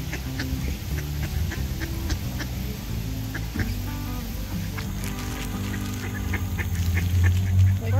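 Ducks quack repeatedly outdoors, a steady chorus of nasal calls close by with the occasional louder honk, over a continuous background of birds and outdoor noise.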